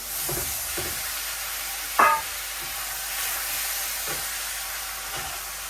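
Loitta fish goes into a pan of Malabar spinach and spinach greens and fries with a steady low sizzle. A sharp clatter of the fish landing or being stirred comes at two seconds, and lighter utensil knocks are scattered through the rest.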